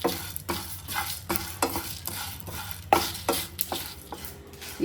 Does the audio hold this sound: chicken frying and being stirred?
yes